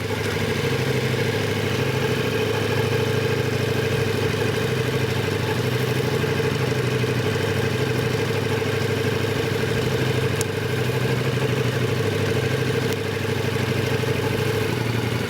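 A motorcycle engine idles steadily and close by, a constant mid-pitched hum with a faint clattering texture and no revving, running without pause.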